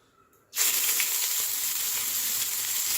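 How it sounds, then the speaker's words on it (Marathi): Onion paste drops into hot oil in a pan for a stuffed bitter gourd dish and bursts into a loud, steady sizzle. The sizzle starts suddenly after a quiet moment and stays close and hissing throughout. "आपलं तेल गरम झालेलं आहे आता याच्यात आपण कांद्याची पेस्ट टाकून घेणार आहे"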